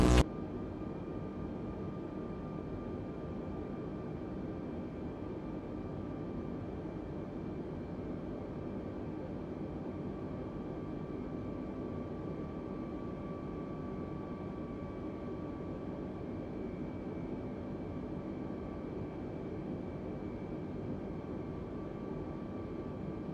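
An airliner takes off from runway 06 at Manila in Microsoft Flight Simulator, its engines a steady, loud roar with a faint whine that holds evenly throughout, with no talking.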